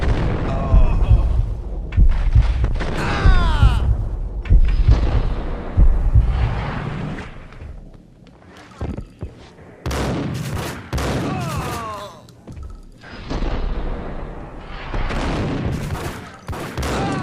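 Gunfire in the Max Payne video game: loud bursts of shots and booming impacts come in clusters with brief pauses, close and dense.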